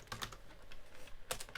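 Typing on a computer keyboard, a run of close, brisk keystrokes in an uneven rhythm, ending with a heavier pair of strikes, with no voices.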